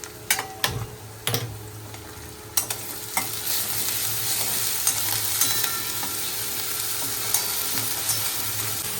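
Onion frying in a pan with guar beans and garlic in a home kitchen, a steady close sizzle under repeated scraping and stirring clicks of a spoon, no voices.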